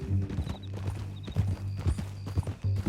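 Horse hooves clip-clop at a steady walking rhythm in the Red Dead Redemption 2 video game, close and fairly loud over a low ambient hum, with no speech.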